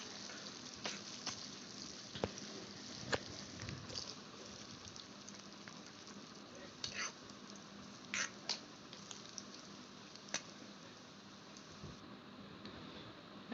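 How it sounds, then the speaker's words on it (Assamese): Chicken curry ingredients with curry leaves fry in a pan with a soft, continuous sizzle, broken by occasional sharp clicks and scrapes of stirring at a quiet, close level. "আৰু এইখিনি অলপ ৰঙচুৱা হোৱালৈকে মই ভাজি ল'ম।"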